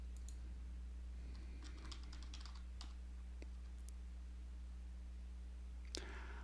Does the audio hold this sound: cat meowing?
no